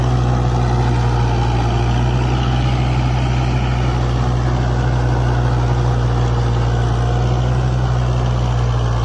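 A Kubota MU 4501 4WD tractor engine runs steadily and loudly with a strong low hum throughout, working an 8-foot rotavator and harrow together in a field, with no talk over it.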